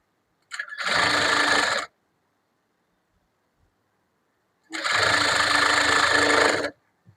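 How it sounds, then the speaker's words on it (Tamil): An electric sewing machine stitches a final seam on a blouse in two steady bursts of whirring, close up and loud, with silence in between. "இந்த லாஸ்ட் தையல் போட்டுருவோம், தையல் பக்கத்திலேயே போட்டுருங்க."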